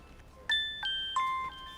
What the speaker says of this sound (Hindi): आरव के डॉक्टर का फोन है।